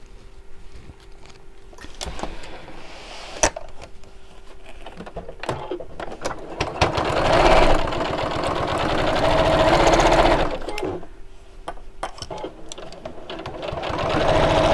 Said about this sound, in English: And we'll sew straight across.